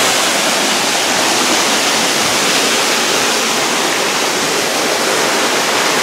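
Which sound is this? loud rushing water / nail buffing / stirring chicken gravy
loud rushing water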